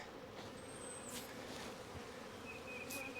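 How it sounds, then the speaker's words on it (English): Honey bees drone steadily around hive frames being pulled for honey, a dense, continuous close buzz with occasional individual bees whining past. "So the bees have been really busy"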